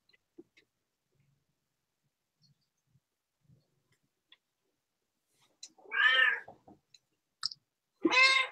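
An indoor house cat gives two drawn-out, fairly loud meows near the end, the first around six seconds and the second shortly after, following several seconds of near silence broken by faint small clicks.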